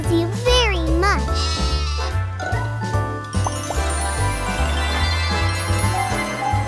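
Cartoon sheep bleating in a children's animated show, wavering pitched bleats standing out over a loud, continuous music score with a jingling bed and a steady bass beat.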